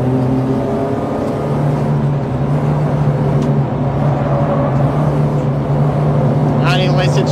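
A Peugeot 206 RC engine accelerates steadily out of a corner at high revs, its loud droning note sustained and close throughout, with a brief higher squeal near the end.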